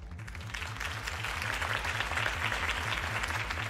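A crowd in Telltale's Batman game applauds Harvey Dent after a campaign speech, a sustained wash of clapping over a low, pulsing rhythmic beat.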